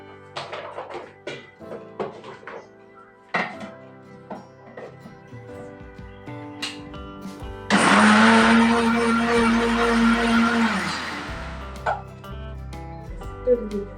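Mustard seeds drop into hot oil in a home kitchen and set off a sudden loud sizzling, spluttering hiss that lasts a few seconds, among clinks and other background sounds.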